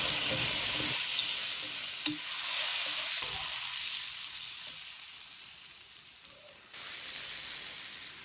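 Fried vegetables are added to a pot of boiling tomato sauce, giving a steady, close, loud sizzle and hiss with light stirring scrapes throughout.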